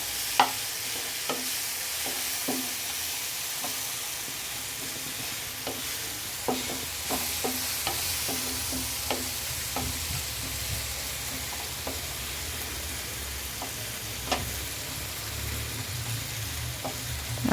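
Mixed masala of cumin and coriander is stirred in a pan: rhythmic, repeated scraping strokes over a steady low sizzle, close and clear, with no talking.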